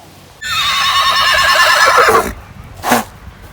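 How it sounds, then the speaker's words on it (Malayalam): A male racehorse at a horse race in Thrissur, Kerala, gives one loud, close, drawn-out whinny lasting about two seconds, followed by a short, sharp snort. "എന്താണ് കുതിര എന്താണ് പറയണ?"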